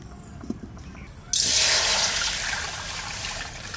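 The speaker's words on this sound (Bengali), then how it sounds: "আমি এইখান থেকে একটু গরম জল উঠে রাখছি" Hot water ladled from a pot while making sugar syrup for keshar bhog rasgulla, a soft splashing pour that starts abruptly and runs steadily as a close, continuous trickle.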